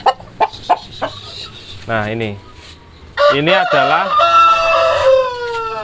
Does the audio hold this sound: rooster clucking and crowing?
yes